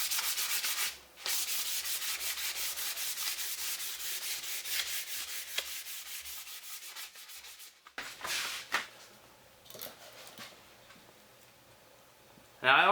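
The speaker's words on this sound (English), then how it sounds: "So I'll go ahead and hit this with 320." A wooden mash paddle is sanded by hand with 320-grit sandpaper: rapid, even back-and-forth rasping strokes, close and fairly loud, pausing briefly twice before resuming.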